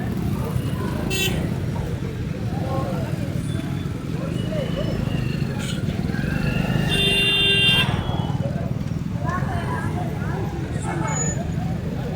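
Jammed market-day road traffic at Mandavgan Farata rumbles on steadily, with motorcycles and other vehicles passing and several horn toots. A voice talks over the continuous roadway noise.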